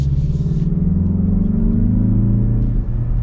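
A 2025 Mazda 3 Turbo in sport mode accelerates from inside the cabin, its engine a close, steady low rumble rising gradually in pitch over a few seconds.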